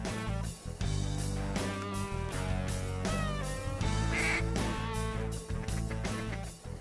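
Ducks in flooded timber in Arkansas, during a duck hunt, quack in a rapid, overlapping chorus of many birds, loud and close, with a steady tonal background underneath and no talking.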